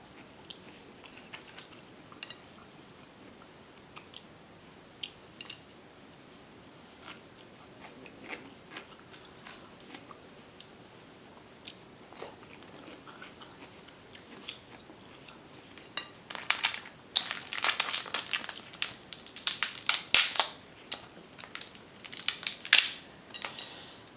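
Snow crab shells being cracked and eaten at a shrimp and snow crab seafood boil, with sparse quiet crunches and chewing that grow into a dense, louder burst of cracking and crushing near the end.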